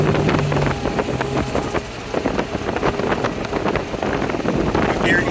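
1987 Buick Grand National with a 3.8 liter turbo engine pulling under load, a loud, continuous rough engine roar heard from inside the car with wind buffeting throughout.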